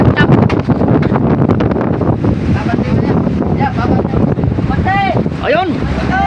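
Strong wind and heavy waves at sea aboard a fishing mother boat, a loud, continuous rushing roar buffeting the microphone, with voices talking over it.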